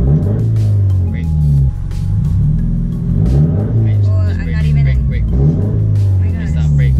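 A manual-transmission car's engine revs hard in sustained, loud mid-range roars that rise and fall while a learner drives stick, with people talking over it inside the car.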